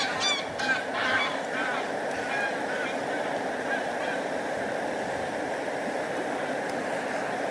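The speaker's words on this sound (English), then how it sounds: "Oh, geese attack." Geese honking beside a river, a burst of loud nasal honks near the start that fades into a steady rushing background of flowing water, with no talking.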